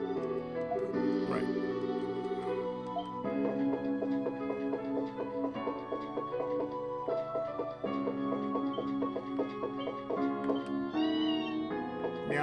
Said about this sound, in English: Meow to you, kitty.